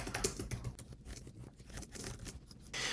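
Soft, quick keystrokes patter on a computer keyboard nearby, an irregular run of light clicks lasting a few seconds with no voices.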